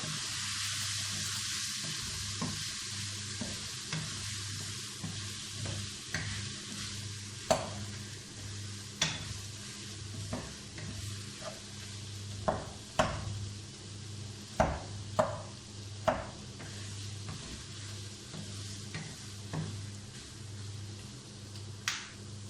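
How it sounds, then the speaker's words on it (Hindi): Masala beef with soy sauce frying over low heat in a pan, a continuous soft sizzle close by, punctuated by irregular sharp knocks and scrapes of a spoon stirring against the pan. "अब इसको अच्छी तरह भूनेंगे। हल्की आग में इसको भूनेंगे।"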